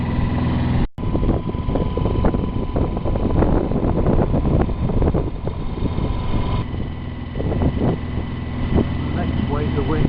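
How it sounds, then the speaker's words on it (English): Wind gusts rush over a sailing boat on the Medway near Kingsnorth on an east wind, a loud steady roar with buffeting and a brief dropout near the start, with no voices. "Next wave of wind coming in."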